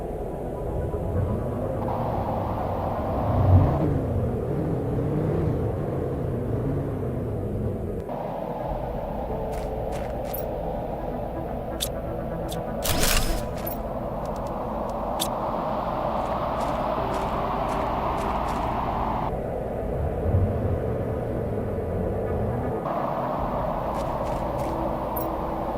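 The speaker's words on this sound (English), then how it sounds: "Another storm of some sort." A storm rumbles in the survival game Planet Crafter, a continuous low roaring wash with shifting intensity and a few sharp high chirps over it, steady throughout.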